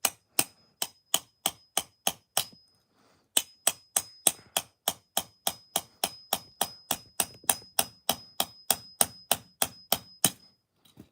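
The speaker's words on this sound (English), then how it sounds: "you always want to be careful while hitting with the hammer" A hammer strikes a diecast metal toy car again and again in a steady rhythm, sharp ringing clanks with one short pause before the blows resume.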